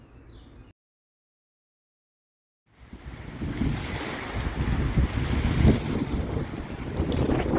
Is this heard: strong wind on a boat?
yes